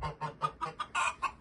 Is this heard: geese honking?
yes